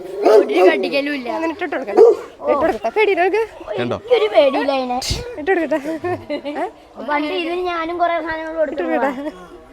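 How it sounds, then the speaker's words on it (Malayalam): A large dog barks, yelps and whimpers repeatedly, close and loud, in bursts throughout. "ഇവിടെ വലിയൊരു നായുണ്ട്. എല്ലാവർക്കും പേടിയാണ്."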